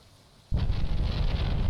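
Rain in the farming game Stardew Valley starts abruptly after a quiet moment, becoming a loud, dense, steady hiss and patter that continues to the end, with no talking.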